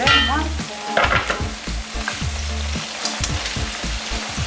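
Onion and carrot frying in oil for Russian-style plov, with a loud continuous sizzle and repeated scraping strokes of stirring close by.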